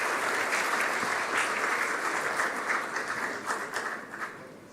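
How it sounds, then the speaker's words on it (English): Warm, dense audience applause at a CII annual conference, welcoming Fadnavis, a sustained roar of many hands clapping that thins slightly toward the end. "please welcome Fadnavis ji with a warm round of applause"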